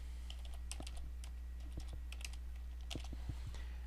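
Keys clack on a computer keyboard as an ID and password are typed for a PowerShell credential: scattered, irregular clicks in short bursts over a steady low hum, with no talking.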